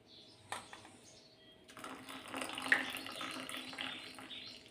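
Ice water poured into a lid to rinse out leftover ground paste while making green aloo sev, a soft splashing and trickling that swells midway and keeps running, fairly close but quiet.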